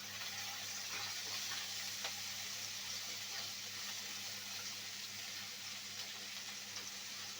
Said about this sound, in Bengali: এখানে আমি পেঁয়াজ ঝুরি করে কেটে নিয়েছি আর রসুন থেতো করে নিয়েছি, দিয়ে দিলাম ওই তেলে।